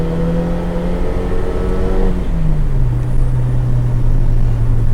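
A tired Ford EF hatchback with no power steering accelerates hard from a standstill, its engine note rising and then settling into a loud, steady drone as it shifts up, close and uninterrupted.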